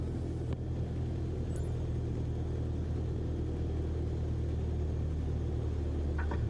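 Steady low engine rumble of a plane rolling down a runway in a flight simulator game, continuous and fairly loud, with a brief click near the start.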